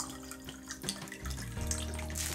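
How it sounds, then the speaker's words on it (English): A water cup is filled with tap water for watercolor painting, the stream rising in pitch as the cup fills over a couple of seconds, close and steady with no talk. "I'm gonna fill my water cup"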